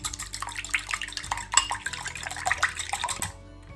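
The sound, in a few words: whisking a mixture with water in a bowl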